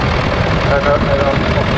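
A 1943 Caterpillar D6 crawler tractor, a Lend-Lease machine, runs at a steam rally tractor parade: a steady, loud diesel drone with a rough low rumble that holds evenly throughout.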